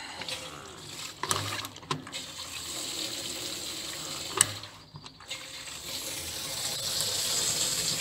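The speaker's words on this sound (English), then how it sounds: "It's pumping in quite nicely, you can see it at the bottom there, look. Slowly filling that drum up." Methanol pumped into a 55 gallon drum, heard as a steady rushing, gurgling flow with mechanical clicks and rattles from the pump, moderately close and continuous, with no talk.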